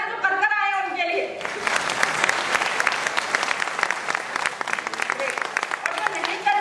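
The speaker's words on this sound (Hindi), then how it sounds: "पर जोरदार तालियां जो कर कर आए हैं उनके लिए।" An indoor audience at a talk on breakfast and nutrition bursts into loud, sustained applause right after someone speaking in Hindi, clapping dense and close for several seconds.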